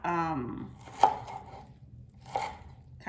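A knife chops scallions on a board in a home kitchen, a few sharp cuts spaced apart, close and fairly quiet, with a brief murmur of voice at the start.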